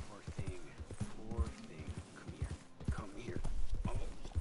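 Horse hooves clip-clop steadily in Red Dead Redemption 2, a western game, amid dense game ambience and noise; the hooves are fairly close and mixed under a busy background rather than heard alone.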